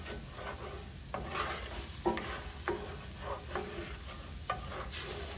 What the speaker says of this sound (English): Scrape up some of that and let that alcohol cook off just